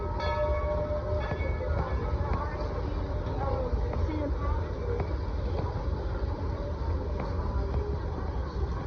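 Steady rumble of a nearby Dollywood theme park train, continuous and fairly loud, with tonal squeals and hums rising over the clatter throughout.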